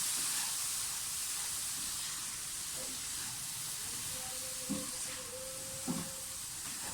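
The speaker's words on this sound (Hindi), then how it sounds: "अब थोड़ा थोड़ा करके दूध डालें और मिक्स करते जाएं।" Milk poured little by little into melting sugar and semolina for halwa, producing a soft continuous hiss and sizzle with a couple of faint scraping knocks from mixing.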